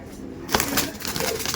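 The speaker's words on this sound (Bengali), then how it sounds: "দেখুন এটা মাদি পায়রা ছিল, মুন্ডু সাদা আছে, এটা চেন্নাই ব্রিডের মাদি আছে" Female Chennai-breed pigeon with a white head, standing out of its cage, gives a few soft nearby coos and rustles after a brief quiet moment, with no talk over it.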